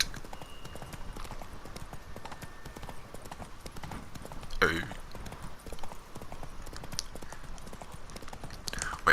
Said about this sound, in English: Are you a magical horse? Just tell me. What? Dang it, Roach. Take it easy